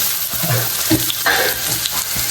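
Onion frying in a home kitchen pan sends up a loud, close crackle, with uneven bursts of sizzle and a few utensil knocks over a constant hiss.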